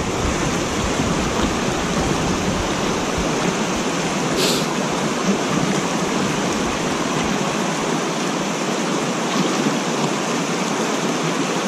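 Water pours steadily at the foot of a spillway in a park in winter, a loud, unbroken broadband roar heard up close with no voices.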